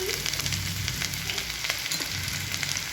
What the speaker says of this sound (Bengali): এতে আমি সামান্য আদা গ্রেট করে রেখেছি সেটা দিয়ে দিলাম। সামান্য রসুন কুচি